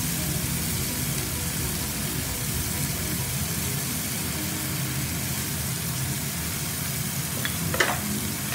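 Two garlic cloves sizzle in a pan as the base for a fish soup, a steady, even hiss of frying with a brief stirring scrape near the end.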